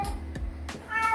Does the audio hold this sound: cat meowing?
yes